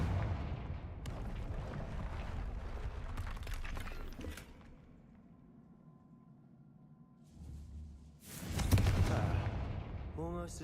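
Confringo blasting spells explode in Hogwarts Legacy, a burst of loud crackling blasts at the start, then a quieter lull and another sharp explosive crash near the end.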